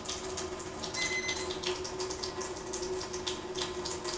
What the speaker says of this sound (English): At this point, I'm now getting some really awesome alkaline water.